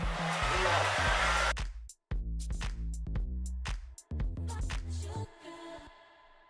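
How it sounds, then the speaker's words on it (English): A blow dryer set to warm and low runs on a wig as a steady airy whoosh at first, then gives way to a stretch of choppy, pulsing bursts that cut out briefly a couple of times. "I'm going to use my blow dryer on warm"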